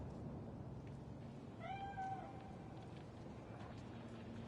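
A single faint cat meow, drawn out and slightly rising, sounds once over a steady low background hum in the video game Cyberpunk 2077.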